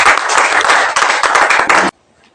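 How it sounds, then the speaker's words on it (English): Applause from an audience at a morning conference session, a dense burst of many hands clapping loudly for about two seconds before stopping abruptly into near silence. "Let's appreciate him with a round of applause"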